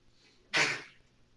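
A single short sneeze bursts out in a quiet indoor room, loud and close, fading quickly afterward.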